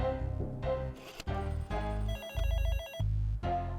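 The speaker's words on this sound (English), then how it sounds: "The phone rang," A telephone rings with bright, electronic trilling tones that repeat in short bursts, loud and close, with no voices over it.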